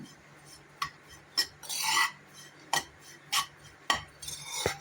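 Ragi flour with cardamom and dry ginger being stirred and roasted in ghee in a pan: rhythmic rasping scrapes of a spatula against the metal, about eight strokes close by, with no talk.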